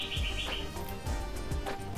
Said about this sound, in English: Birds tweeting away.